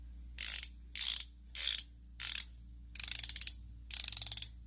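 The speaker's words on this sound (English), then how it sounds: "the ratcheting sound isn't like off. You can hear it ratcheting." A Stanley passthrough ratchet clicks through six quick bursts of ratcheting, each a crisp run of tight metallic clicks, close and clear against a quiet background, the later bursts faster and more rapid.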